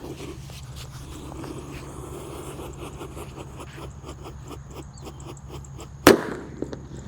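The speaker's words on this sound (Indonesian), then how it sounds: "Selanjutnya di sini ada mercon disco happy flower lap lap Thor. Kita nyalakan di dalam tanah." A disco happy flower firecracker set off buried in the ground gives one sharp, loud bang near the end, with a couple of smaller pops after it, over a steady outdoor background.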